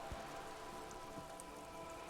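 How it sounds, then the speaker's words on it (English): In the video game Disco Elysium, rain falls steadily around wooden boards by the water, a constant soft patter of droplets with occasional slightly louder splashes, alone and without speech. "All around you, rain keeps falling down."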